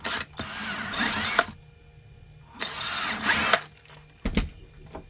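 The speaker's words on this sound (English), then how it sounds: "Drill those as normal." Power drill boring holes through a leather holster, two loud whirring bursts of about a second and a half each separated by a quiet pause, then a short clunk and brief rattle at the end.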